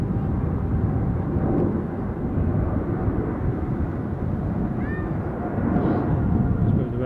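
Boeing 787-10 Dreamliner airliner at Amsterdam Schiphol airport, a steady broad jet roar from moderate distance with a faint higher whine, and a voice speaking briefly.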